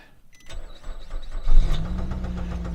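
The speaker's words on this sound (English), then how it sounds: "So it started very slowly, but it is start. And you can hear this awful knocking sound." A Nissan Rogue cranks slowly before catching, then settles into a rough idle with a persistent knocking, loud and close, with no voices.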